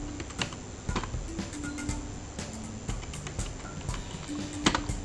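Password typed on a computer keyboard, a sparse run of separate key clicks at an uneven pace, close and fairly quiet over a faint steady hum.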